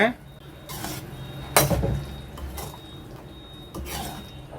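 A pot of egg curry at a boil has its lid lifted with a sharp metallic clatter partway through, amid soft bubbling, scattered utensil clinks and brief faint voices.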